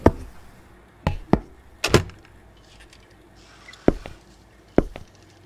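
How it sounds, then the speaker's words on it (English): A door opens amid a series of sharp knocks and thuds, several close wooden impacts spread unevenly over a few seconds with quiet gaps between them. "Go open the door, man."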